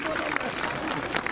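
A crowd claps for a police dog demonstration at a fire station open day in Arlon, a steady wash of applause mixed with murmuring voices across the whole moment.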